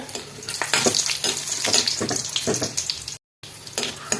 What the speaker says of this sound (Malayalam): ഉണക്കമുളക് ഒന്ന് വറുത്തെടുക്കാം